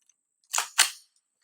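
Two quick suppressed shots of supersonic 300 Blackout through an Omega 9K suppressor, sharp snapping cracks a fraction of a second apart, each with a brief fading tail, then quiet.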